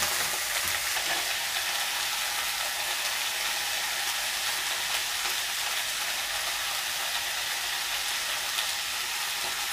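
Small-cut, freshly washed cauliflower stalks sizzle in a hot pan with a steady, even frying hiss that holds at one level throughout, fairly close and with no voices.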